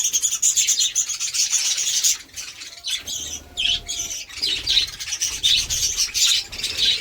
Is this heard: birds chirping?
yes